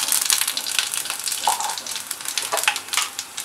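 Spices crackling and sizzling in two spoons of hot mustard oil in a pan, a steady close frying hiss with scattered pops and stirring scrapes throughout.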